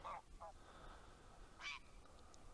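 Geese honking among other birds at a pond outdoors, a few faint distant honks over a low background hush.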